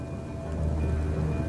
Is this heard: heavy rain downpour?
yes